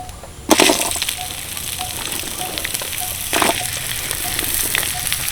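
Turmeric-coated mango pieces drop into hot oil in a wok, bursting into a loud sudden sizzle that settles into steady frying, with a second surge of crackling as they are stirred, close and continuous.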